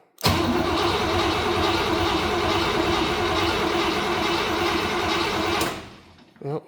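A carbureted engine that has sat without fuel in the carb cranks and catches, then runs steadily and loudly up close for about five seconds before cutting off abruptly.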